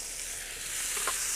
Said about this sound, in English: So we want to just very lightly cook these tomatoes.